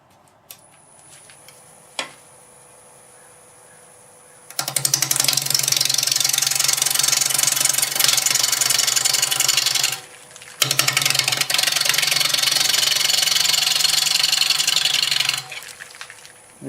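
A wood lathe turning a small madrone bowl with a 5/8 bowl gouge: after a quiet start with a single tap, two loud, sustained bursts of hissing, rasping cutting follow, separated by a brief pause.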